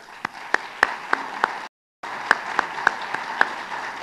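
Audience applause for staff members at a Governance Innovation Week gathering: moderate clapping with a few sharp individual claps standing out, broken by a short silent gap before resuming.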